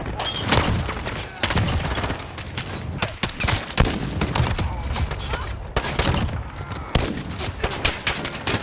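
Rapid video-game gunfire crackles nearly nonstop, dense bursts of automatic shots and repeated loud cracks filling the whole stretch, close and harsh with little pause.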